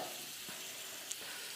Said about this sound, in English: Now, I'm going to add my butter in.